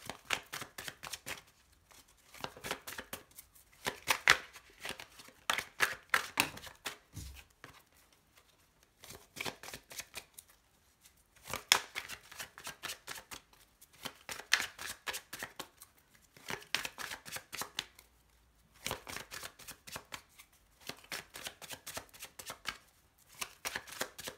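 Tarot cards are shuffled close up in repeated bursts of rapid riffling, each lasting a few seconds and separated by brief pauses, with no voice over them.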